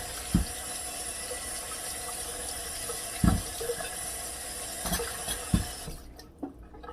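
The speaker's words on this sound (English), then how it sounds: "I'm gonna wash off my sweet potatoes," Sweet potatoes are rinsed under a running kitchen tap, a continuous hiss of water with a few sharp knocks and thumps as they are handled, close by before the flow cuts off.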